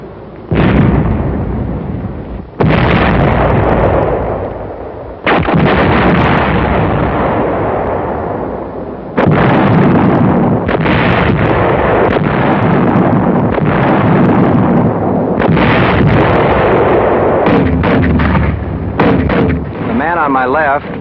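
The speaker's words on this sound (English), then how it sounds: "the tanks opened up directly again with 88 fire." WWII German tanks fire 88 guns during the Battle of the Bulge, producing a series of loud, booming blasts, each followed by a long, rumbling roar, repeating in heavy succession with short gaps.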